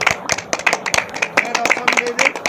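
Hand claps ring out at the Tarabalo hot spring in Nayagarh, Odisha: a rapid, irregular series of sharp, close claps, with voices talking over them.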